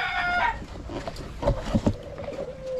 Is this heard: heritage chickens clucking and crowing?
yes